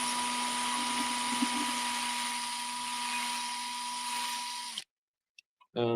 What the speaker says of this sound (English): I might need to drill for a little longer.